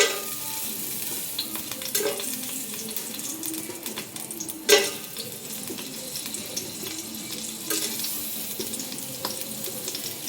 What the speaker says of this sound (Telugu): అండ్ నెయ్యి కొంచెం వేడెక్కాక ఈ బిర్యానీ దునిసులన్నీ వేసేసుకోవాలి